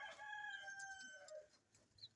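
Chickens cluck and call on a small African poultry farm at feeding time, one drawn-out crowing call followed by softer clucks, faint and fairly close, with no talk.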